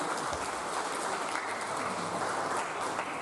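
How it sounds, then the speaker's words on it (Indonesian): A school graduation farewell crowd claps together in sustained, dense applause, heard from a moderate distance and continuing steadily without a break. "Kita tepuk tangan lagi."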